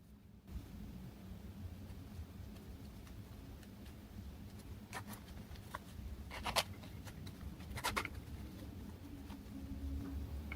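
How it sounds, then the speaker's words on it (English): The zipper on a headband wig gets zipped up in a few short, scratchy, faint rasps near the end, set against a quiet, steady background hiss. "Have it back zipped"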